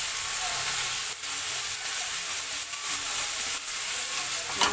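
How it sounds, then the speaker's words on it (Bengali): Meat sizzles and fries with spices in a pan, a continuous bright hiss with brief stirring breaks, close and steady and free of talk. "মাংসটা দিয়ে কিছুক্ষণ কষে নেব।"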